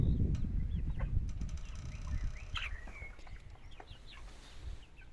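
Two-month-old purebred chickens clucking and chirping in scattered short calls over a low rumbling background, fairly close and without talk.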